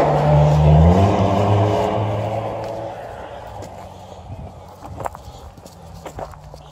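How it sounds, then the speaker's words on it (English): A car drives fast and close past a roadside walker on a narrow uphill road near Vikrče, rising to a loud rushing whoosh that fades away over a few seconds, followed by footsteps on the verge. "because cars, as you can see, drive pretty fast and close to the edge."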